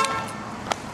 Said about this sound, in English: We're gonna try to stop honking.